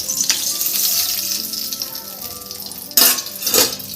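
Cumin seeds tempering in hot oil, with a steady crackling sizzle followed by two louder bursts of hissing and clattering near the end as something hits the pan.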